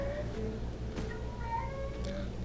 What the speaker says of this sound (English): Don't mind the cat screaming in the background.